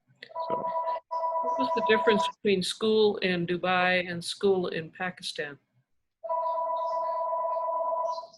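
A household telephone sounds behind a video call, a steady electronic tone that runs for long stretches before and after someone speaks over the line.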